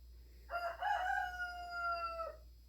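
A rooster crows once nearby, a loud drawn-out cock-a-doodle-doo with a rising start and long held ending, heard alone over a quiet indoor background.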